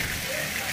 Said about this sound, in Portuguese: Aí a chuva.